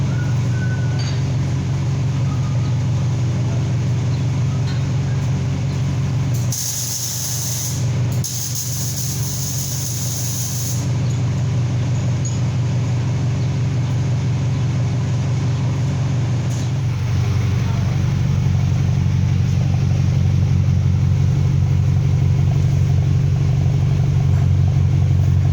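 A BMW F10 528i with a full 3-inch dual exhaust and two mufflers idles nearby as a steady, low, quiet rumble, briefly masked by a hissing burst before rising slightly louder toward the end.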